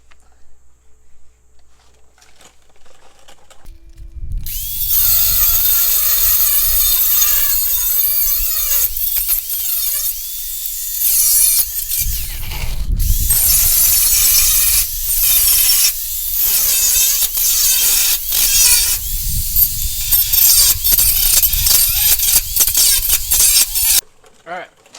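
An angle grinder cuts through rusty bolts on a 1968 Chevy C10 truck, a loud, harsh, sustained metallic whine that starts after a few quiet seconds and runs with brief dips until the end.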